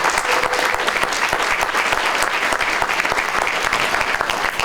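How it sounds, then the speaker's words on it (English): Dense, steady audience applause at an MLK Drum Major Award ceremony, a full crowd clapping continuously and fairly loud throughout with no break, no talk over it. "Give her a round of applause."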